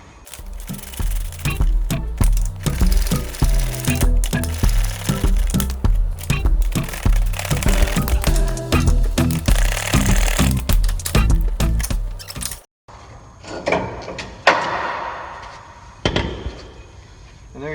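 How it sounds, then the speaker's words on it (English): An articulating ratchet wrench cranks on 17mm bolts during a Ram 1500 lift install, loud rapid clicking bursts in an uneven rhythm, then a short pause and a few sparser clacks and knocks. "It's really nice to have a wrench like this that's articulating."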